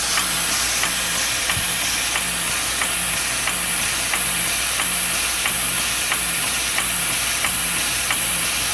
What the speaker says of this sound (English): We have an exhaust here which really should have a muffler on it to silence that.